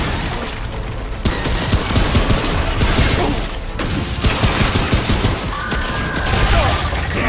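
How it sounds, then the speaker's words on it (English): Sustained gunfire in the video game Remnant II, dense bursts of shots and mechanical clatter running continuously at a loud, close level with brief dips in between. "So let me shoot."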